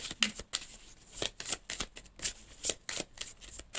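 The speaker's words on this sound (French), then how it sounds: "Je vais prendre 3 cartes ici." Tarot cards are handled, shuffled and drawn by hand in a run of close, crisp riffling flicks and soft slaps, with short pauses between bursts and no voice.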